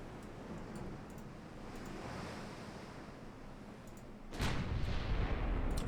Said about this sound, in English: I love the rumble of those 8-inchers.